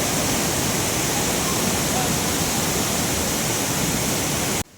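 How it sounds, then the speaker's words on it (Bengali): A waterfall at Belpahari swollen after a night of rain, a loud, dense, unbroken rush of falling water close by that cuts off abruptly at the end. "ঝর্ণার আওয়াজ"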